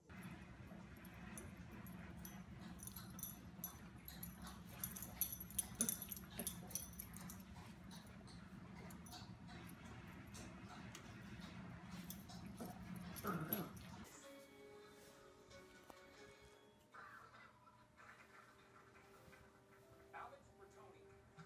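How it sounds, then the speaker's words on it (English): A corgi lying on its back gives soft barks and whimpering yips amid indoor clatter and voices, the dog sounds faint and intermittent under people talking. "You're so relaxed, you just lay upside down and bark."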